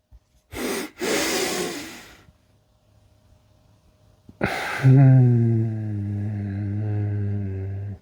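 A person doing a breathing exercise takes a quick, audible inhale through the nose, holds in near-silence for a couple of seconds, then releases a long voiced breath out, close and moderately loud.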